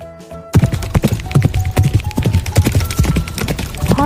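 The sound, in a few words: horse hooves clip-clopping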